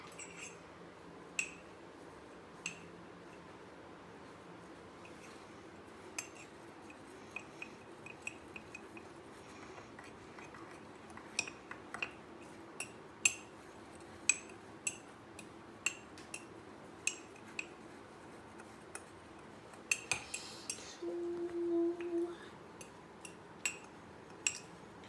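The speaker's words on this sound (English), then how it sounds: "mix everything well" Spoon stirring mug cake batter with a pinch of salt in a mug: scattered light clinks and taps of metal on ceramic, quiet and irregular over about twenty-five seconds, with a brief denser scraping near the end.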